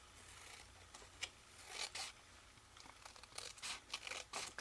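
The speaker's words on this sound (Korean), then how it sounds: "가위로 이렇게 잘라내 주시고" Scissors cutting folded origami paper for a large paper flower, heard as a few short, close crisp snips and rasping cuts spread unevenly across the moment, fairly quiet with no talking.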